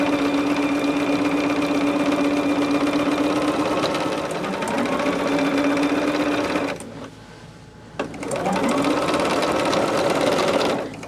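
A sewing machine stitches quilt fabric in a fast, steady mechanical whir close by. It stops for about a second, then starts up again at the same pace.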